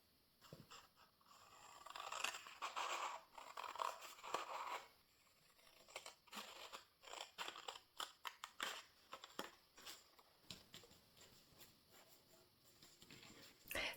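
Scissors snipping through gelli-printed paper to cut 7 by 14 centimetre tags, a run of close, crisp cuts with papery rustles, gaps between snips, no talking.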